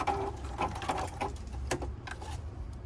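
A Juki F-600 sewing machine runs its knife with a continuous, fairly quiet mechanical whir broken by quick rhythmic ticking, heard close and alone.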